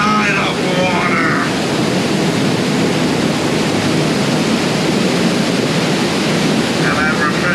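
Steady roar of rushing water from the Backside of Water waterfall on the Jungle Cruise boat ride at Disney's Magic Kingdom, loud and continuous throughout, with brief faint chatter at the start and end.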